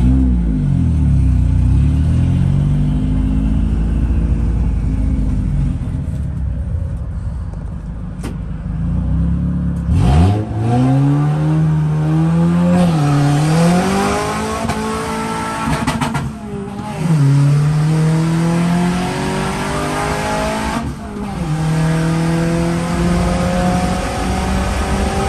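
A Mitsubishi Colt Ralliart stage 3 car idles, then launches from a standing start, its engine revving hard and climbing through several gears in repeated rising sweeps, loud and close.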